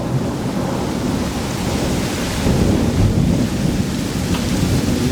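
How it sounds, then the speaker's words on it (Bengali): A Kalbaishakhi storm over a village roars with heavy rain and gusting wind, deep thunder rumbling loudly through the steady wash of noise without any voices. "আপনারা হয়তো বা শুনতে পাচ্ছেন সেই বাতাসের আওয়াজ এবং বিদ্যুৎ চমকানোর সেই দৃশ্য, তার সাথে বজ্রপাতের আওয়াজ।"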